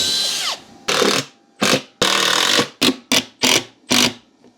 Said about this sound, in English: What I need to do is I need to drill and screw it down in the four corners